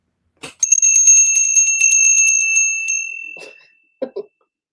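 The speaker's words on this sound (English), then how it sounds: "If you could ring our bell, please" Small hand bell rung in a quiet room, a rapid run of bright metallic strikes for about two seconds, then a long ringing decay that fades out, followed by a few soft spoken words.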